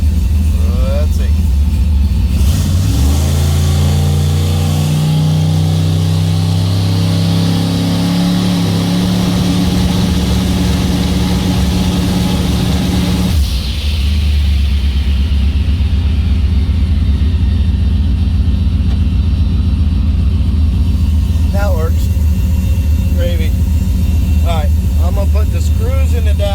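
A turbocharged LS-swapped Mustang engine revs loudly and close by, climbing in rising harmonic sweeps for several seconds before dropping back to a rough, rumbling idle with some clanks.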